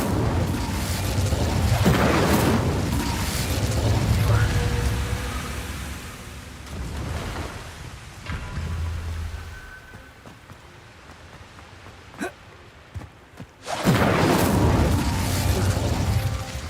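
A fire spell blasts in Hogwarts Legacy with loud booming whooshes and crackling bursts, fading into a quieter stretch with sharp snaps before another heavy roaring burst near the end.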